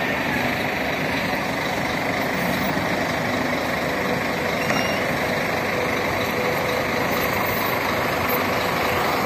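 A bus rumbles steadily as it drives onto a river ferry at Carolina, Maranhão, with a continuous engine drone and broad road noise throughout.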